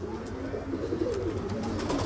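Pigeons coo softly at an outdoor club celebration in Tyrnavos, with low, rolling calls over a steady crowd murmur and a few faint higher chirps.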